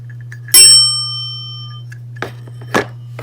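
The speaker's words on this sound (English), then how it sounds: "Here we have an Otis bell." An Otis elevator bell rings with one loud, bright metallic ding that rings out and slowly decays, followed by a few soft taps and a sharper knock near the end.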